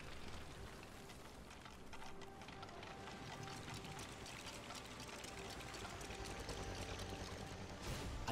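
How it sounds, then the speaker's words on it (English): Water pouring to fill a container in the LEGO Ninjago Movie video game, a steady faint splashing rush that keeps going and swells slightly near the end, with no voices. "I think we have to fill it with water"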